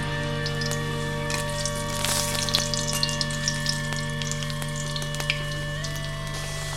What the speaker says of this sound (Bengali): প্রথমে আমি আলু ভেজে নেব।